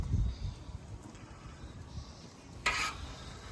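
Bacon sizzling in a pan cooked outdoors in the rain makes a faint, crackling fry under light background noise, with a brief metallic scrape near the end.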